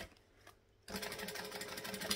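A sewing machine starts up after a quiet moment and runs steadily, topstitching over the seam of a turned-out bag to close the opening, with an even, rapid whirring rhythm.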